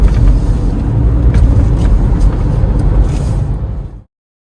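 A 1997 Mercedes-Benz W202 C220 driving in busy traffic, with a loud, steady low engine and road rumble that cuts off abruptly near the end.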